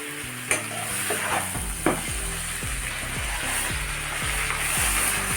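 Hot water poured into sizzling singi fish curry masala cooked with bitter gourd, a steady close sizzle with two sharp clanks early on and repeated scraping, stirring strokes in a pan.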